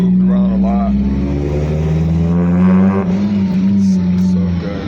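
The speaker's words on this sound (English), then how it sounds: "There's something about this car, man. It sounds so good." A car engine hums steadily at a low, even pitch inside the vehicle, close and loud throughout, while someone talks over it.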